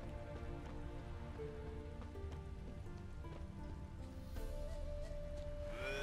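Steady in-game rain in The Witcher 3 patters on surfaces as a soft, continuous hiss, faint and even, with music or ambient tones layered underneath.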